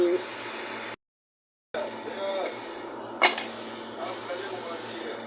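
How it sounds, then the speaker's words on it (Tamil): Onions and spices sautéing in a pan for a chickpea curry, a steady close sizzle with a brief silent gap, a sharp utensil clink against the pan, and soft stirring scrapes, under a speaking voice. "நல்லா வதங்கிடுச்சு பாருங்க நண்பர்களே"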